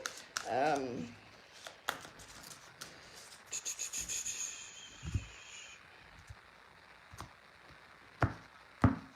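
Reading cards are shuffled and drawn, with soft rubbing, riffling and tapping that comes and goes while someone talks over it.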